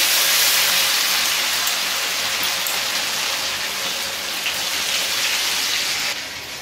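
Chicken kebabs fry in hot oil with a dense, steady, rain-like sizzle that holds loud and close for the whole stretch, with no talking.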